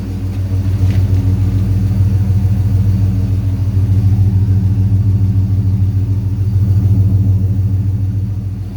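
A 6.1 HEMI engine swapped into a 1970 Coronet idles on its first start, a loud, close, steady low rumble with an even pulsing throb throughout and no voices over it.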